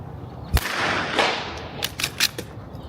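Rifle shots fired with CCI standard ammunition through a rifle topped with a Discovery Optics HD 32-power scope, several sharp cracks spaced apart, the first loud and close, the later ones quicker and lighter.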